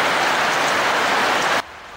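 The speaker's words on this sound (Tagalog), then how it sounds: "Bumuhos din ang malakas na ulan sa ilang bayan ng Cotabato." Dense, loud downpour in Cotabato, Philippines, hissing steadily, then cutting off abruptly near the end.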